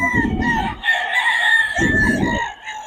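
A gamefowl rooster of Boston Sunlight bloodline crows loudly and close by in one drawn-out call, with clucking and other fowl heard underneath.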